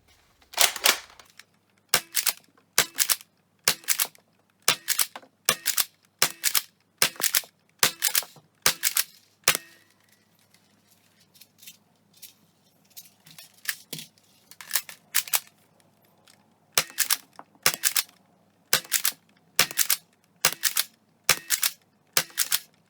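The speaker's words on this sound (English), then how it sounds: "I'm going to fire 20 of these funky little Accu-Round guys" A Nerf Rival Pathfinder blaster fires Accu-Round darts in quick, sharp snapping shots with a short mechanical rattle after each one. Around twenty close, loud shots come in regular bursts, with a quieter gap partway through.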